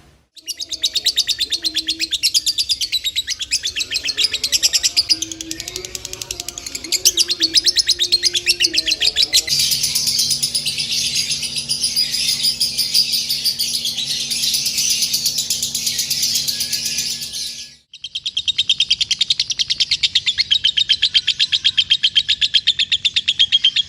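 Lovebird sings in a close recording, rapid chattering trills and high chirps running almost without pause, with a brief gap before the song resumes.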